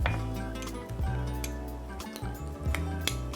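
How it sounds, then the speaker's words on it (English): Mayo and softened butter stirred together in a bowl, with soft clinks and taps of a utensil against the bowl in an irregular rhythm over a low steady background hum. "Here I have mayo and softened butter. I'm gonna mix those together."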